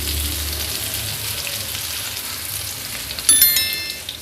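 A quarter cup of chopped onion fries in hot oil for rava upma, giving a steady, close sizzle with a short, louder clatter near the end.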